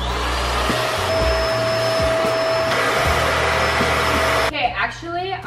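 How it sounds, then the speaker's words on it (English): A household vacuum cleaner running on carpeted stairs makes a loud, steady close-up whine and roar with a few brief bumps, then cuts off abruptly near the end. "I'm just gonna try my best to use the normal vacuum to do the stairs"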